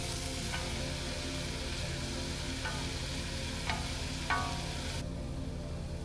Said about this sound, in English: add oil to a pan that's been turned to medium. Add in the diced onions and stir